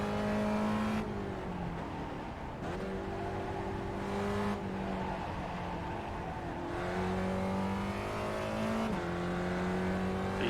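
A Gen3 Spec Racer Ford race car lapping in the iRacing simulator, a steady engine drone that rises in pitch and drops at each gear change, heard from the cockpit with no talk.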